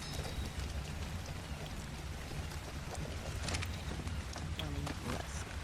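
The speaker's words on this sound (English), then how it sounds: "Oh good, it's raining." Rain falls in the video game Ark as a faint, even hiss of drops with scattered light taps, continuous throughout.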